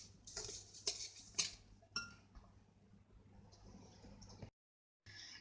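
Butter and brown sugar being mixed in a bowl produce faint, close clinks and scrapes of a utensil against the bowl, in irregular bursts that settle into softer stirring before a brief silence near the end.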